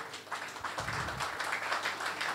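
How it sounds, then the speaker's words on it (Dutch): An audience applauds for Hans and Riet at a community gathering in Rotterdam, a soft, distant patter of many hands clapping continuously without voices on top. "applaus voor de mensen zoals Hans en Riet van Rosa en van de gebiedscommissie. Fantastisch applaus."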